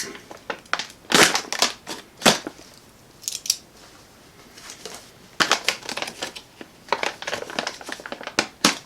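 Crinkling and crushing of plastic packaging as a KTactical OWB holster for an STI 2011 / 1911 pistol is unwrapped, loud irregular bursts of crackle separated by brief pauses, close up with no talking.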